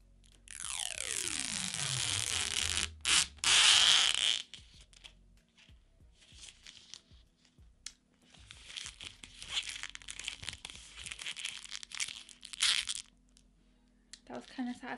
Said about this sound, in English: Should we do a little bit of an ASMR moment with the mirror plastic?